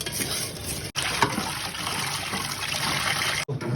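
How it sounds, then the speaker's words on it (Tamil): Water running and splashing while fish is rinsed clean in a home kitchen before marinating, a steady trickling stream close by with two brief pauses in the flow and no talking. "ஸோ ஃபிஷ்ஷை நல்லா வாஷ் பண்ணி வச்சிடலாம்."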